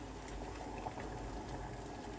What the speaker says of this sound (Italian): Ho fatto bollire dell'acqua,